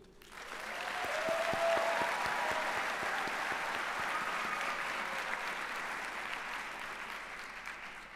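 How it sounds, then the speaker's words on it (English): Sustained applause from a graduation ceremony audience honoring the graduating class at a charter school, building quickly and holding steady at moderate loudness for several seconds, with scattered cheers mixed into the clapping. "I want to start by giving a round of applause for the class of 2023."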